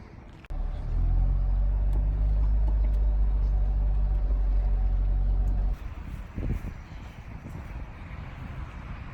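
A Samba Green 1993 Honda Civic del Sol Si on a small road off Logan Canyon in northern Utah: a loud, steady engine drone for several seconds, then a sudden drop to quieter road and wind noise with a brief thump.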